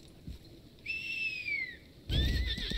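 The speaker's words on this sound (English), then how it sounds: "I saddle up my horse and I ride" A horse in a video game, the MMORPG Lost Ark, whinnies in a rising-falling call, followed by a louder second neigh with some rustling noise, fairly close.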